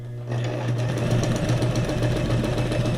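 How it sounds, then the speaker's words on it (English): A sewing machine runs steadily up close, its motor hum and fast needle chatter loud and continuous after a brief quieter start, with no voices. "I like the noise from the sewing machine too"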